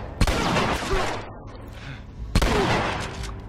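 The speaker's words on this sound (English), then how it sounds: "Oh god, he shot me." Gunfire in The Last of Us on PS3, two loud, sharp blasts about two seconds apart, each with a short rumbling tail, over continuous game ambience.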